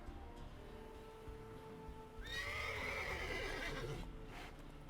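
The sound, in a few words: Roach the horse neighing in video game The Witcher 3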